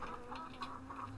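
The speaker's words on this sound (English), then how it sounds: "I can actually hear the chickens clucking" Chickens cluck repeatedly in Farming Simulator 15 on the Jakas farm map, a steady run of short, fairly close clucks over a constant background hum, with no talking.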